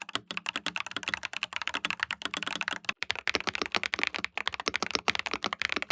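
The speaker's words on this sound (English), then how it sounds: "the sound profile of the Dynatab is also a bit nicer in my opinion" Rapid, continuous typing on a Dynatab mechanical keyboard, close and clear, with dense clacky keystrokes and only a short pause, and no voices.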